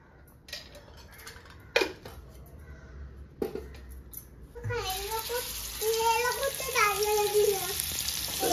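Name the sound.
mawra fish frying in a pan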